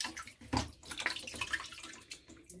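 CLR cleaner poured into a toilet bowl, a faint, close liquid trickle and splash over about two and a half seconds with small drips.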